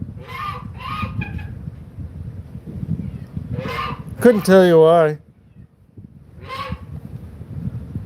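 A lone goose in South Dakota gives one loud, wavering honk partway through, between stretches of someone talking nearby.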